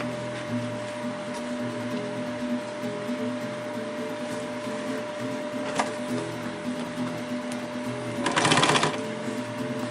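A sewing machine stitches a dart into folded fabric with a steady, even whirring hum close by, and a brief louder rattling burst comes near the end.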